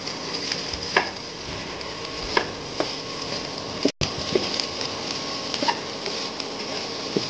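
Plantain and okra stirred as they fry in a pan, with a steady sizzle and a few soft scraping clicks of the spoon, close and continuous, with no talk.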